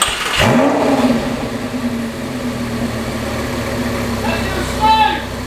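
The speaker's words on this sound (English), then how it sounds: "That's a V10." A wrecked Lamborghini V10 engine bursts to life with a sharp rising rev, then settles into a loud steady idle and ends on a second brief rev, with voices talking close by.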